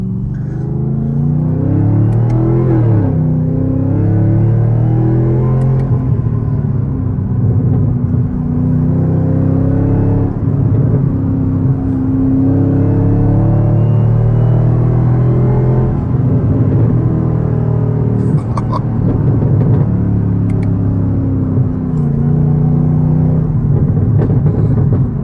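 Several V6 street race cars rev and race, with engines whining up and down through repeated pitch sweeps over a continuous heavy rumble. The sound is loud and close for the whole stretch.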